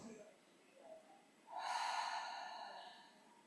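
A single deep breath during a guided meditation, a soft sniff in followed by a longer, louder, airy exhale that fades slowly, close and quiet.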